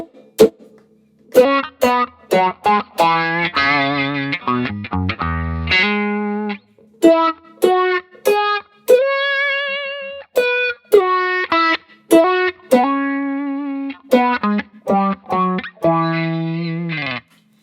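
Electric guitar notes and chords played through a Fractal FM3 auto-wah envelope filter, tones wah-ing open and closed with each pluck, loud and close, no talking.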